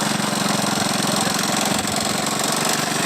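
Old three-wheeler abandoned for ten years, idling after brake cleaner was sprayed into the intake: a loud, rough, steady engine chug with a fast uneven knock, close up and continuous.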